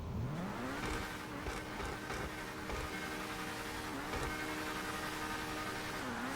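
A Progen Emerus supercar in GTA 5 launches hard and accelerates, its engine note climbing steadily through the gears in a loud, continuous roar with brief dips at the shifts.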